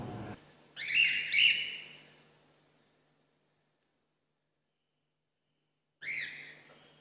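Birds calling during a live outdoor bird show, two bursts of bright chirping and whistling about a second apart, then near silence, followed by another short call near the end.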